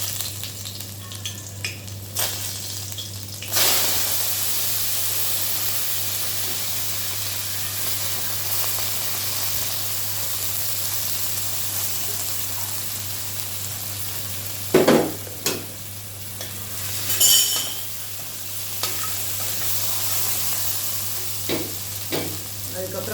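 Ginger garlic paste frying in a pan for noodles gives a soft, steady sizzling hiss throughout, broken by a few brief louder scrapes and stirring clatters.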